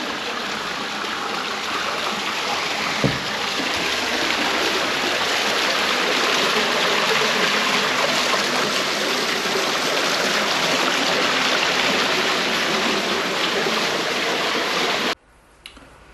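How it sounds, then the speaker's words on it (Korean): Steady, full rush of running fountain water at the ancient agora ruins of Smyrna in Izmir, continuous and close, with one faint knock partway and an abrupt stop near the end. "지금 보이시는 게 분수입니다. 물소리 들어보시겠습니다."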